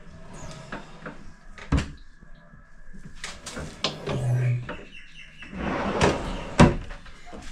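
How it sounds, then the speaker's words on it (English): Cupboard doors and drawers on a blind corner kitchen cupboard being opened and shut, a series of sharp wooden knocks and sliding clunks spaced irregularly, close by with quiet gaps between. "This drawer works,"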